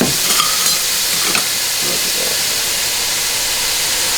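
Thawed shrimp sizzling in a hot pan, a loud steady hiss of frying with a few brief clinks of a utensil at the start, no voices.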